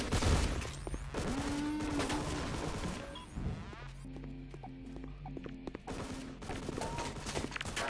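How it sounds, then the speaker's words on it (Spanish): Gunfire in the Half-Life 2 mod Hunt Down the Freeman, a burst of rapid shots and crashing impacts mixed with game effects and tones, fairly faint and layered throughout. "eso sí que es sonido de disparos"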